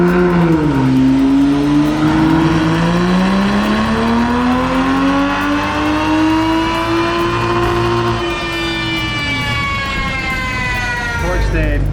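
Race car engine on a dyno running race gas, revving in a long continuous pull that rises and sweeps through the range, then drops off; loud and close, alone without talk.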